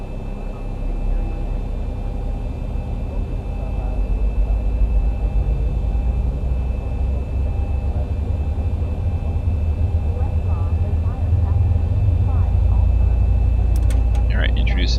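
Engine number 1 of a Boeing 737 spools up in the X-Plane 11 flight simulator, a steady low roar and hum that grows slowly louder toward the end, with no talk over it.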